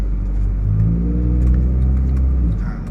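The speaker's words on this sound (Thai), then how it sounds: "ปลอดภัยกดแค่เร่งได้เลย" Car engine revving up as it accelerates, pulling out from a side road onto the street during a driving lesson; a steady close mid-pitched engine drone that rises and swells throughout.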